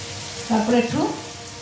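Water poured into a hot frying pan of turmeric-spiced masala for an aloo, bori and matarshuti dish gives a short, close sizzling burst that swells for about half a second and then fades back into a soft hiss.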